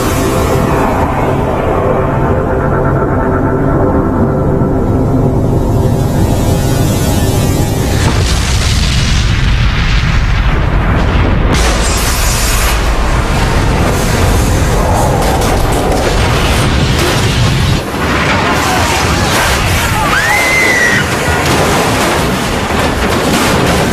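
A plane crashes into a World Trade Center tower, a heavy rumbling explosion followed by a sustained roaring boom and thunderous rolling noise that lasts for many seconds, loud and dense.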